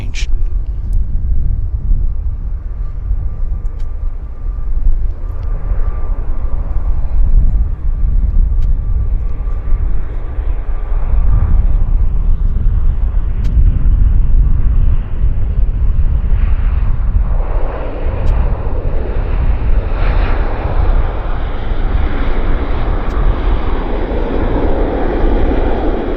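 Airliner landing at Vancouver Airport, a loud sustained low rumble of engines and rolling that swells and shifts toward the end, heard from nearby.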